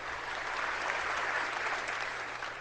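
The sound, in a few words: rally crowd applauding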